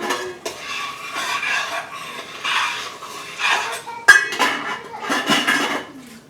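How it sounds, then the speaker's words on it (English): A utensil stirs tomato sauce in a metal pot, giving repeated scraping and clinking strokes at close range with one sharper knock partway through and no talking over it. "So let me stir this tomato."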